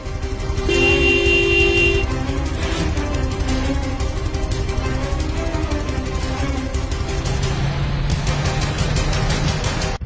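A car horn honks as the car pulls up, a few bright tonal toots over a steady engine and road rumble, with a lower, longer note near the end.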